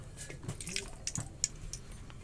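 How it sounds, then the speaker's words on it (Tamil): Sunflower oil poured into a hot pan for frying crunchy pakoda, giving soft, faint dripping and light splattering at close range, with a few brief crackles over a quiet kitchen background. "இப்போ நம்ம சன்ஃப்ளவர் ஆயிலை ஊற்றிக்கலாம்."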